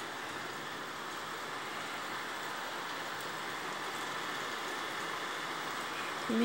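Heavy rain pours steadily at night in Poços de Caldas during a strong thunderstorm, a dense, even roar of downpour that holds at the same loudness throughout with no voices.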